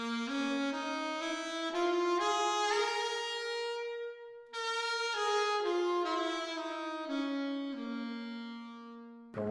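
A saxophone plays a G blues scale in a bluesy phrase, with clear sustained notes stepping up and then back down, reedy and close, with no talking.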